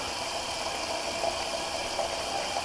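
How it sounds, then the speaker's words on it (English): Cold water runs steadily from a bathroom tap during a wet shave, a constant close hiss of flowing water with no voices. "Cold water, because the face was damp."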